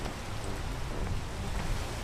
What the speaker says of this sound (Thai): ฝนตก ฝนตกลื่นเลย